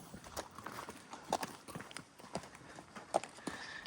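Horse hooves clip-clop on a yard surface at a moderate distance, quiet, irregular strikes of a few horses moving about, with some sharper, louder knocks standing out against faint background noise.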